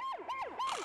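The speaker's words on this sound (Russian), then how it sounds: "Пэт может включать свою сирену во сне." A cartoon emergency vehicle's siren wails in three quick rising-and-falling sweeps, each steady tone dropping into a swoop, loud and close with no talk over it.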